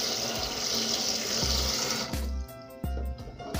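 Tap water runs steadily into a sink as a tin can is wet under it, a close, constant splashing that changes to a hollower, irregular spatter with dull knocks as the can moves through the stream.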